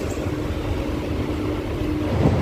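Steady low rumble and rattle from inside a lightly occupied Guntur–Vijayawada MEMU passenger train as it rolls onto the Krishna river bridge, continuous and fairly loud throughout without speech.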